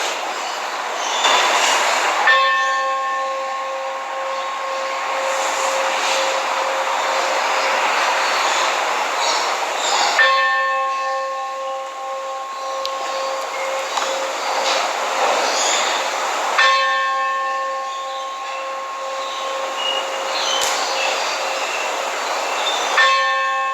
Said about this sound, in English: So we're going to ring the bell now.